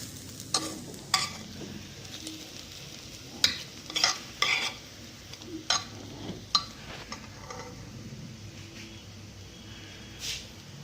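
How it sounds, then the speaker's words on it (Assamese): Rice being stirred as it fries slowly over low heat in a pressure cooker for pulao, giving a soft sizzle broken by repeated sharp scraping ticks of a spoon against the pot. "চাউলটো মই লাহে লাহে লৰাই আছোঁ, নহ'লে ভাজি যাব পাৰেতো।"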